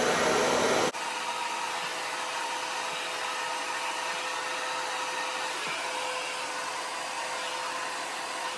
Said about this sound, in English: I'm going to put my hair dryer on the middle heat setting and then all the way up